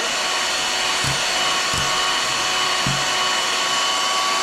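An electric beater whips cake batter with sugar for a coffee cake, giving a loud, steady motor whine throughout, with a few brief knocks as the beaters strike the bowl.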